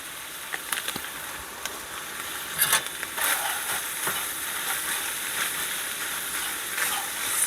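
Hamburger meat with chili seasoning mix being stirred in a pan for bread bowl chili, a steady broadband sizzle with scattered scraping clicks and a brief louder rustle of stirring partway through, no talking.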